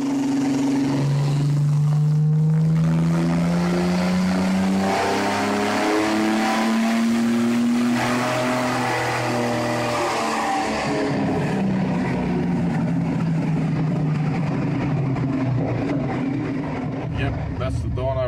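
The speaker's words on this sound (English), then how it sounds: "That's the dyno run first off the bat." A 265 Hemi six in a VH Valiant ute revs hard on a dyno, a loud sustained engine note climbing steadily in pitch through a long pull before easing off near the end.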